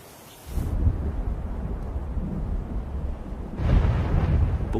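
A thunderstorm over Death Valley rumbles in a deep, continuous roll after a brief quiet start, swelling again into a louder crash near the end, with a steady hiss of rain beneath and no voices.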